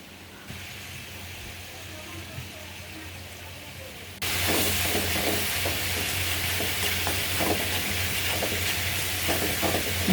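Onions fry in a pan with a soft sizzle that suddenly swells into loud, crackling spitting as turmeric and chili powder go in, with stirring scrapes throughout.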